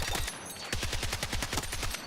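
Rapid automatic rifle fire in Battlefield 6, an evenly paced stream of sharp shots at close range. A short pause comes near the start, then one steady burst continues to the end with no talk over it.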